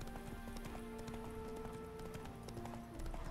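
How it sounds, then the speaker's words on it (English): Horse hooves clip-clop at a steady gait in the video game The Witcher 3, fairly quiet and continuous beneath a tonal musical backdrop. "Spooking my horse. Roach doesn't like ghosts."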